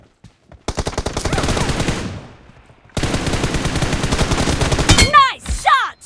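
Rapid automatic gunfire bursts in the mobile game BGMI, loud and close, with a short pause between volleys followed by further firing and chirping effect sounds at the end.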